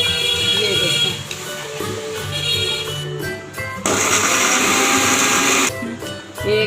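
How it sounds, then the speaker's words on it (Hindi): A blender grinds biscuits in a jug for a mango delight dessert, its motor roaring loudly for about two seconds after a stretch of quieter whirring and background sound, with a voice speaking at times. "एक बिस्कुट ग्राइंड कर दिया"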